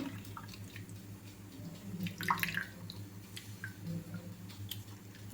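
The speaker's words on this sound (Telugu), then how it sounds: "సెకండ్ టైం కూడా ఒకసారి వడగట్టుకుందాము చింతపండు రసాన్ని." Soft, irregular dripping and trickling of tamarind juice through a strainer, with faint squishy sounds against a low steady background hum.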